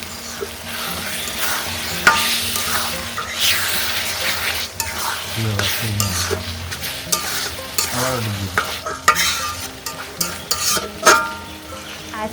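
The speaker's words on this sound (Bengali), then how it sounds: "এবারে কষানো মশলার সাথে মাংস দিয়ে দিচ্ছি।" Meat for halim is tossed into spice paste and fried in a karahi, turmeric included. A constant sizzle runs under repeated scraping and clanking stirs of a spoon against the metal pan, some strokes louder and sharper than others.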